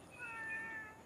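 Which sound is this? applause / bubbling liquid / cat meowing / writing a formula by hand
cat meowing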